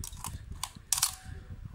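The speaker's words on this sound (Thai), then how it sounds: "ตรงนี้เป็นการขึ้นฟิล์มต้องขึ้นให้สุดนะครับถึงจะกดถ่ายได้" A film camera's advance lever is wound all the way through its stroke, giving a few quiet mechanical ratcheting clicks and a sharper burst of clicking near the middle, close-up with no voices.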